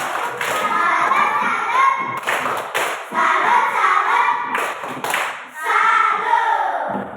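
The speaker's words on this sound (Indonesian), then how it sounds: "Iya, tepuk salut." A group of children clapping in unison in a classroom, sharp bursts of rhythmic claps in several clusters separated by brief pauses, close and loud.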